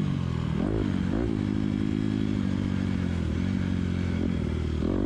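A motocross motorcycle lapping a dirt track at Maricourt, its engine droning steadily loud and near with rising and falling revs as the rider works through the circuit, no voices.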